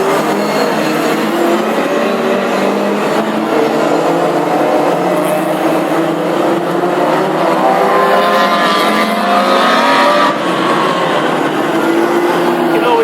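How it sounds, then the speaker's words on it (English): Continuous snarling exhaust from several classic hot rod race cars, including an HB Viva, in a heat at Birmingham, loud and steady throughout with a raspy, rumbling tone and no talking. "Lee Wood's exhaust above everybody else's. A real snarly rasp that he has emitting from the HB Viva"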